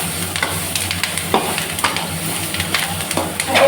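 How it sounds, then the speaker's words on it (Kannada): Leafy greens fry in a pan in a village kitchen, giving a loud, continuous sizzle broken by sharp pops and crackles, with occasional scraping from stirring. "ಅದು ಸೊಪ್ಪಲ್ವಾ ಪಟ ಪಟ ಅಂತಿದೆ"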